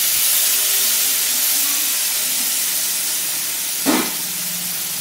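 Spice paste of ground mustard, radhuni, cumin and ginger sizzling in hot oil in a pan, a loud continuous hiss close up with a brief clink near the end.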